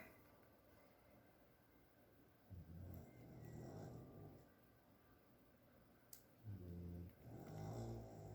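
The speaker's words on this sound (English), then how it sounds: "the dogs are sound asleep at my feet snoring" Two dogs' slow, rumbling snores rise and fall in a quiet room, close by, each drawn-out breath separated by a few seconds of hush.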